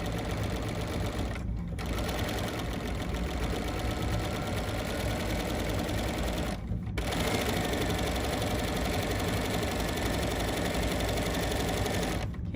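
A sewing machine stitches fabric along a folded edge for an embroidery sampler block, a loud continuous mechanical whir with two brief pauses, running alone without talk.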